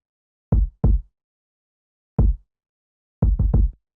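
Six deep, punchy kick-drum hits land off the grid in a loose, uneven pattern, struck at full velocity: two together, a long gap, a lone hit, then three in quick succession, each booming and decaying fast into silence.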